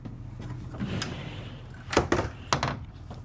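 Light wooden French doors in a 2024 Renegade Valencia 38RB Super C motorhome being closed: soft rustling handling, then a few close clicks and thumps as the pair of doors meet and latch.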